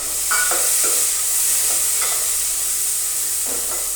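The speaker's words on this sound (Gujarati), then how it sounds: "હવે આપણે ટમેટા, મરચાં અને લસણ નાખી દઈશું" Tomatoes, chillies and garlic fry with onions in a pan, making a loud, steady sizzle. Several light spoon stirs scrape through it.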